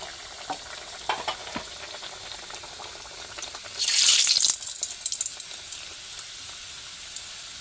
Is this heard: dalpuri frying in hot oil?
yes